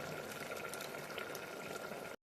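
A pot of sambar bubbles on the stove, a soft, steady simmering gurgle that runs briefly and then cuts off abruptly.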